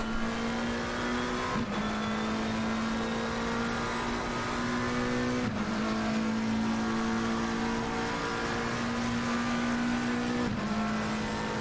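Onboard race car 444 at Imola during a two-hour endurance race, its engine a loud sustained drone that climbs steadily through each gear before shifting up, with three quick upshifts across the stretch and no talk.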